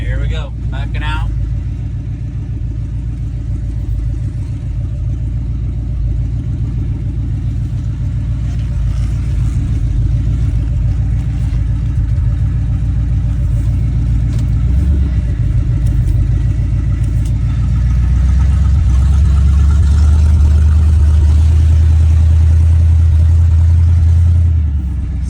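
A 1981 Chevy C10 pickup's engine runs steadily while the truck backs out, a loud, close low rumble that swells in revs toward the end.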